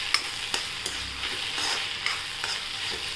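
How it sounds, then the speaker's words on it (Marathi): Cowpea greens being stirred and sautéed in a pan give a steady sizzle under repeated scraping strokes of a spatula, close and moderately loud, with no voices. "आता आपण हलवून घेऊया, मीठ टाकलं आपण, आता परतून घेऊ एकदा।"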